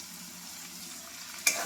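Spices and chili powder fry in a pan for a chickpea dal, giving a steady, soft, close sizzle that ends with a brief sharper clink.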